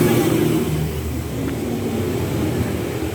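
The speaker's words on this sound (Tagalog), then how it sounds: "Narinig nyo na yung mga sasakyan." Steady low rumble of vehicles moving along a nearby main road, engines humming continuously with no pauses, fairly loud and close.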